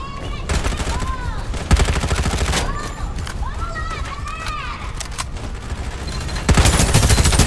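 Rapid bursts of gunfire in the battle royale game Farlight 84, loud and continuous with brief pauses, mixed with synthesized game voice announcements and effect tones.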